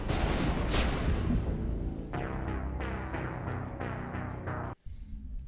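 Sniper rifle gunfire in a video game: a rapid burst of loud sharp shots, then a string of evenly spaced cracks with ringing tails, ending abruptly in brief silence before the background returns.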